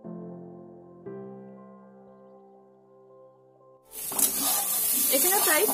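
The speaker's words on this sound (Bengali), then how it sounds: "আবারও সমস্ত সবজি 2 থেকে 3 মিনিটের মতন নাড়াচাড়া করে ভেজে নেব" Cubed pumpkin added to beans and other vegetables frying in a pan, a loud, close hiss and sizzle bursting in after a few seconds of steady tonal hum.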